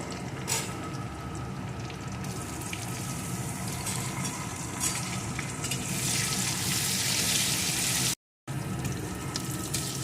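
Crushed garlic and chopped onion frying in hot oil in a pan, a steady close sizzle that briefly cuts out near the end.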